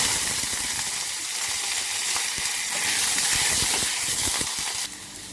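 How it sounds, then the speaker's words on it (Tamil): Mustard seeds sizzle and spit in hot oil during tempering for a South Indian sambar, rasam and poriyal meal, a steady close broadband hiss with scattered crackling pops that drops off sharply near the end. "எண்ணெய் காஞ்சிச்சு கடுகு போட்டுக்குவோம்"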